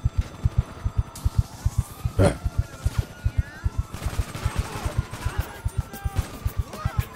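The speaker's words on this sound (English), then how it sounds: "Yo, who's shooting me?" Rapid gunfire in the GTA video game, a steady rhythm of sharp shots with a few louder bursts and crashes layered over it, close and loud throughout.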